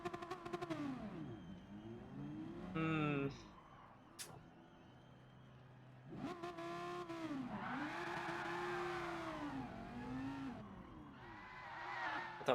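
An Audi race car engine in the Gran Turismo video game revs and shifts through gears, its pitch sweeping up and down in repeated rising and falling bursts, fairly quiet and steady with occasional brief clicks.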